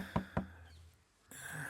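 Two sharp knocks on a door ring out close and loud in quick succession, followed by a quiet pause and then a brighter background hum.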